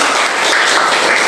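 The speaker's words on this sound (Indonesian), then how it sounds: "Tepuk tangan untuk kelompoknya Dika." Loud, dense clapping from a classroom of students applauding a group that has just presented, a continuous close-up burst lasting just over a second.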